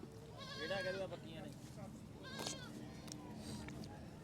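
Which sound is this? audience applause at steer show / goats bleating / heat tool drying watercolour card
goats bleating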